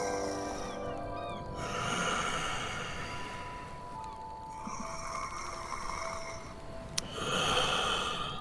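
A human voice imitates a dragon's deep, heavy breathing echoing from tunnels in a tabletop role-playing game, with slow, rasping inhales and snorting exhales repeating at a low, steady level.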